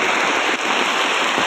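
Heavy downpour at an outdoor Congress party rally at Gandhi Chowk in Panna, a dense, steady hiss of rain hitting surfaces, loud and close throughout with no voices rising above it.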